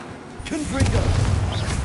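Confringo blast spell in the Hogwarts Legacy video game going off as a single close, heavy burst that rumbles on for a moment, with other game sounds behind it.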